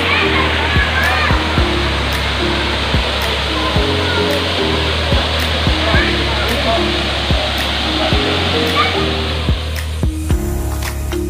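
Roaring rush of the 8-8 Falls waterfall, a loud, dense, unbroken wash of water filling the whole clip, with faint rhythmic tones running underneath.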